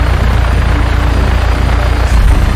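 A helicopter flies in the video game Just Cause 3, its steady loud rotor and engine drone filling the short stretch with a low throbbing rumble.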